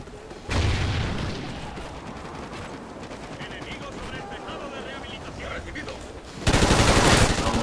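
Gunfire in the Call of Duty: Ghosts video game, with sustained, dense bursts of shots under the game soundscape, then a sharper, louder volley near the end. Someone talks over it.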